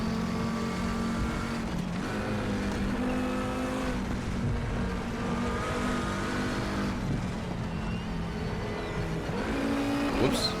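An Audi TT RS VLN race car at the Nordschleife in RaceRoom drones loudly and steadily, its engine pitch rising and dropping through gear changes with a brief whoosh near the end.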